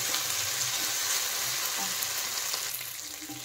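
Ginger-garlic paste and spices fry in a pan for aloo matar pulao, giving a soft, steady sizzle with scraping stir sounds throughout, moderately quiet and without talk.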